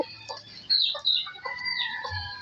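A rooster clucks close by in a farmyard, a few short throaty clucks and squawks over a couple of seconds, with a chirp at the start and no talk.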